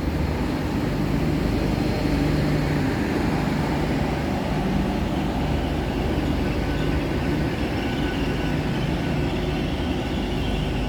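Class 800 train 800-314 passing through Bath Spa station on the Great Western Main Line, a continuous loud rumble of wheels and engine roar holding steady across the whole span, close by.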